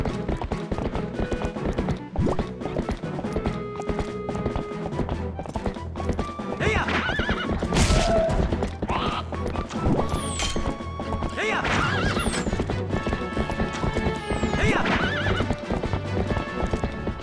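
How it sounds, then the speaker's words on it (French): Horse neighing and whinnying in Zelda Twilight Princess HD, over steady clip-clop hooves and game music, a loud whinny rising midway, with faint talk in places. "le cheval va avoir peur de s'en approcher"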